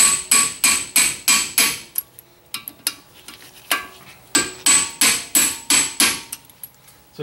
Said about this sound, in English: I'll give it a couple hits with a hammer.